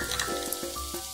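Cumin seeds sizzle in hot oil during a tempering for thin poha chivda, a steady close crackling hiss with small bursts throughout, heard alone.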